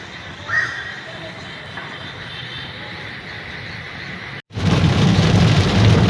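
Heavy monsoon-style rain pours down in Surat, India, in a loud, steady roar with low rumbles of thunder; after a brief cut the downpour surges even louder.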